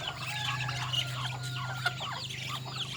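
Free-range village chickens and ducks on a farm, a steady murmur of clucks and chirps from a flock at close range over a low hum, with no one talking.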